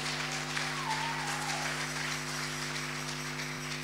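A church congregation applauds and cheers for the King of Kings, a continuous dense wash of clapping under a sustained hum, steady and fairly faint throughout.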